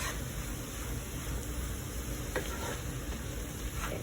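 Mushrooms and tamari sauce sizzle in a pan of vegan quinoa stir fry, a steady, fairly quiet frying hiss with a few faint stirring clicks and a soft background hum.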